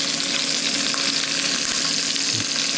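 Lamb shanks searing in a pot, a loud, dense, continuous sizzle close at hand with a faint low bump near the end.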